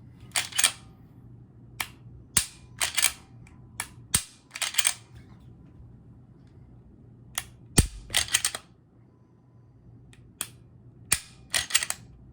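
CZ P-10C pistol trigger dry-fired and reset again and again, a run of sharp, close mechanical clicks in small clusters with quiet gaps between them, alone with no talk.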